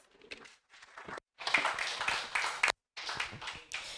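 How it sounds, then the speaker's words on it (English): Scattered audience clapping at a professional association leaders summit comes in uneven bursts broken by short silent gaps, fairly faint overall. "Another round of applause."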